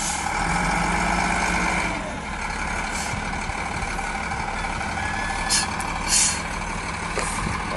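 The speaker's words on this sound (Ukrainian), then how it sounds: "Даже грейдер со своими колесами не тянет бугор." A road grader's engine labours up a snowy hill, a loud continuous diesel roar with rumbling low end, joined by a few brief hisses and clanks, heard from nearby outdoors.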